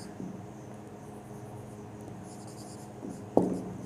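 Pen writing on paper during a Bhagavat lesson, soft intermittent scratching strokes close by, ending with a sharp tap.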